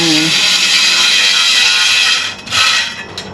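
A power tool driving a screw on a greenhouse whirs loudly and steadily, cuts out briefly, then spins up again for a shorter burst.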